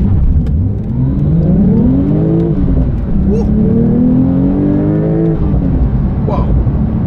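Porsche 911 Sport Classic, a manual rear-drive car with a turbo engine, accelerating hard from 0 to 80 km/h, its loud engine climbing steadily in pitch through several gear changes, heard close for about seven seconds.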